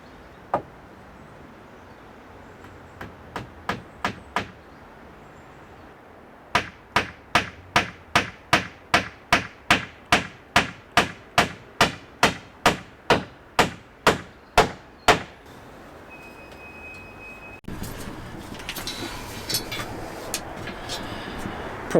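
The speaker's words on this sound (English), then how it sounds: "I can get away with leaving them all in place as I start hammering the nails" Nails are hammered into pallet wood roofing on a cabin, sharp ringing blows in steady bursts: a short run of quick strikes, a pause, then a long evenly paced series, ending in rustling and scraping.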